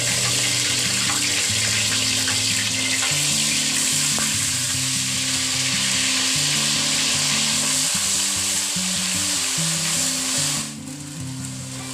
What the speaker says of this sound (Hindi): अब मैं इसमें ये जो मेरे पास प्याज का पेस्ट है मैं ये डाल रही हूँ।